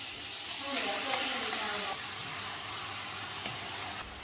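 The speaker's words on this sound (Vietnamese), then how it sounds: "Và chúng ta sẽ bắt đầu xào." 2.8 kg of pork stir-frying in a large pot, a loud steady sizzle and hiss that eases slightly partway through, with a few faint clinks.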